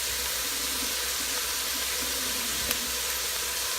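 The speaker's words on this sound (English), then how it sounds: "I'm going to rinse my hands." Water running steadily from a kitchen faucet as hands are rinsed, an even hissing flow at moderate level with no talking.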